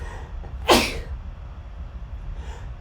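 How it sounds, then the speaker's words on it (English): A single sharp sneeze bursts out close by, then fades into quiet room noise. "I had a sneeze attack"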